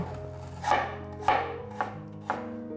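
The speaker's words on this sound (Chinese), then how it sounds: "我们现在继续把苹果切片" A knife slices through a five-claw apple on a cutting board, four distinct crisp chops spaced about half a second apart, close and clear with no voices.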